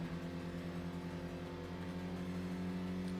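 Rotary engine of an RX car in the racing video game Tokyo Xtreme Racer, a steady droning hum with strong tonal layers, held at an even level throughout without clear revving.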